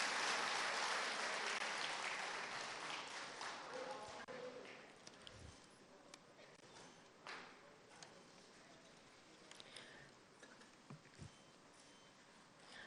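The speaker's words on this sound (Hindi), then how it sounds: "जोरदार तालियों से अभिनंदन करें" A crowd applauds at a government event where the Chief Minister releases a livelihood calendar for women's self-help groups. The clapping is loud at first, then fades to scattered claps with a few louder thumps, all heard at some distance.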